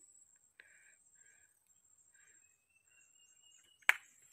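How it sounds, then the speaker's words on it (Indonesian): Crickets and birds on a quiet island with santigi trees: a faint, steady high insect drone carries throughout, with a few soft, scattered bird chirps and one sharp click near the end. "suara jangkrik suara burung"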